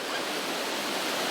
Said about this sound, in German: Und dann geht es mitten hinein in die Sturzflut.